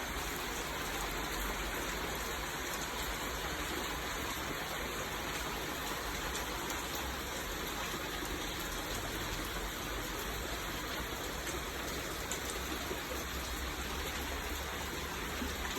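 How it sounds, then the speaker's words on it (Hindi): Heavy monsoon rain pours down in Delhi onto potted plants, a dense, unbroken wash of hissing water at steady moderate loudness, with no voices. "दिल्ली में झमाझम बारिश और उसमें झूमते हुए मेरे प्लांट्स,"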